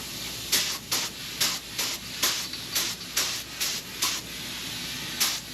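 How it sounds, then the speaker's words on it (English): A spray gun applying Cerakote coating gives about a dozen short hissing bursts in a steady rhythm, each a loud, close airy spray over constant compressor-like background noise. "Man, that stuff sprays out and levels out so nice."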